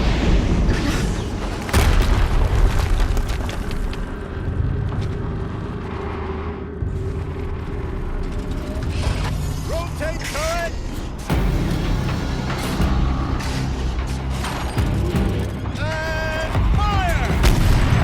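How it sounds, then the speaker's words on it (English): Explosions in the game Horizon Zero Dawn: heavy booms and blasts rumble over a dense, loud mix of game sound, with a chirping machine-like call in places and a voice now and then. "Another explosion."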